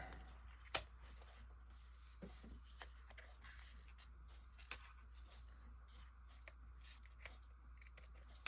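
Scissors snip off extra fabric wing pieces from a handmade crossbody bag, with a few sharp, quiet, close cuts spaced irregularly over a soft background hum.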